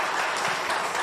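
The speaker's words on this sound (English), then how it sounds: "We applaud you." A brief burst of steady crowd applause at a university value-project event, dense and even for about a second with no gaps.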